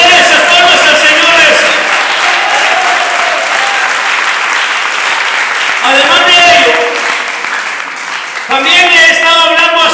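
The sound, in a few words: audience applause for the Lord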